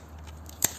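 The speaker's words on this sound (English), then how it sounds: "let's cut some branches" Scissors or pruning shears make a single sharp snip through a weeping forsythia branch, brief and close, following a faint low hum.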